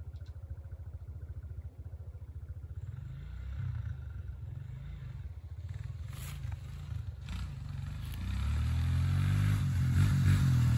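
Dirt bike engine on a motocross field idling with a steady low putter, then revving up and rising in pitch, growing louder toward the end; no talking.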